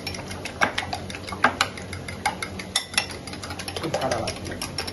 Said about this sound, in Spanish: ya tengo aquí los huevos y los vamos a batir